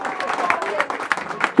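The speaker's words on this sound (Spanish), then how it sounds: "Y el aplauso, por favor, para el cumpleañero" An audience at a birthday party with a mariachi band, clapping in a brief burst of applause with crowd voices mixed in.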